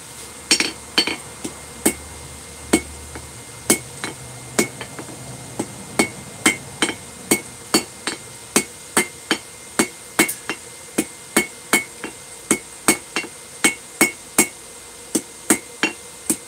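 A hammer strikes hot metal to forge a short taper, ringing sharp and metallic in a steady rhythm of about thirty blows, close and loud with no talking.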